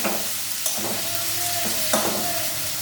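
Fish frying in hot oil gives a dense sizzle with a few sharp scrapes or stirs, close and steady with no talking.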